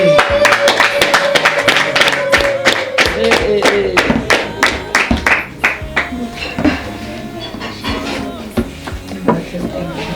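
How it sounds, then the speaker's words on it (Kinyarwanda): Scattered hand clapping from a crowd applauding a couple at a family gathering, a run of sharp, uneven claps with voices murmuring underneath. "Abantu babahaye amashyi"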